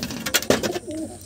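Close, low cooing from a Benaras line pigeon, a high-flying giribaz breed, heard in a brief burst over a background hiss, with short scuffling noises just before the call.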